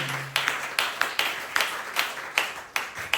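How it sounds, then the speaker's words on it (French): A church congregation at a Sunday service claps along in a steady rhythm, sharp hand claps landing roughly twice a second, moderately distant, with no voices over them. "Applaudissez pour le Seigneur Jésus."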